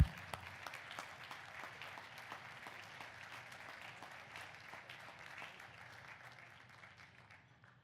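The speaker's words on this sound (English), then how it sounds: "That deserves our recognition and our applause." Audience applause at a medical foundation's excellence gala, a soft, even patter of many hands heard from a distance that slowly fades over several seconds.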